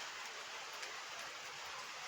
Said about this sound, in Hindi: उसी टाइम में यहाँ बारिश तेज होने लगी है।